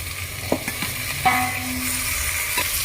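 Mutton lands in a hot pan with turmeric, and the sizzle swells into steady close frying, marked by a few sharp clinks and scrapes as it is stirred.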